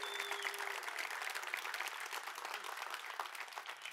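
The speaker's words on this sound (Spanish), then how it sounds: "yo creo que tú le puedes dar mejor ese aplauso a Jesús" A church congregation claps loudly and continuously in dense, sustained applause, with a faint voice briefly audible at the start.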